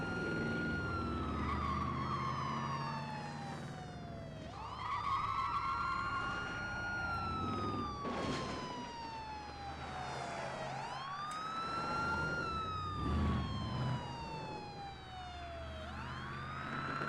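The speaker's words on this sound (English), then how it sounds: "Oh, so there's a police car." A wailing police car siren in the 1999 PlayStation driving game Driver, set in Miami, sweeps up and down in long repeated cycles over a low engine rumble, loud and continuous.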